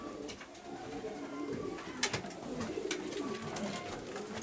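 Soft cooing of racing pigeons in a loft, low repeated burbling calls with a few faint rustles and a brief sharp knock.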